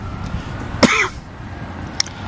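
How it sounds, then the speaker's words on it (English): A single short, harsh cough stands out near the middle against steady outdoor background noise, followed later by a brief faint click. "sorry for my coughing"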